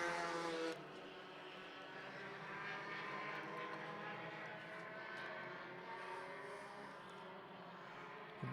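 Entry-level four-cylinder race cars lap a short oval track at about 70 mph, and their engines make a continuous, fairly distant roar that swells and fades gently as the cars circle.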